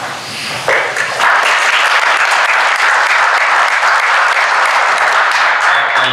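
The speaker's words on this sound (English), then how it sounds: "You can give him the applause," A design panel audience breaks into applause for a speaker, the clapping starting abruptly and then holding loud and dense for several seconds, with a faint voice joining near the end.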